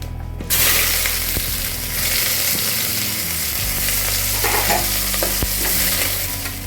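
Onions sizzle and fry loudly in oil in a pan while a utensil stirs and scrapes, with occasional clinks over a steady low hum.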